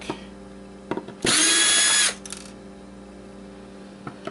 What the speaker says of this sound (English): Let's get the drill back.